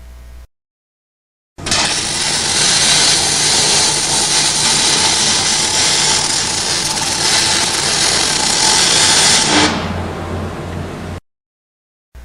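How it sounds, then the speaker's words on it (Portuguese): MIG welding on aluminium plate, the torch weaving in an arc pattern; a steady loud crackling hiss runs about eight seconds and then cuts off, with silence on either side. "inicia a solda afastando 15 mm do furo"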